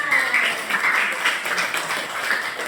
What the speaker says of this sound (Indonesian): Ayo kita kasih tepuk tangan